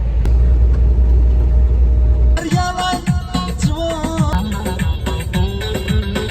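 Car interior while hitchhiking toward Antalya in Turkey: a steady low road rumble for the first couple of seconds, then the engine and tyre noise continues under brighter, shifting tones, with no one speaking.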